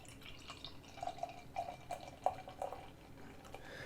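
Stone Farking Wheaton w00tstout, a dark stout, poured from a bottle into a glass, a soft, quiet trickle of liquid with faint glugs and drips across a few seconds, with no talking.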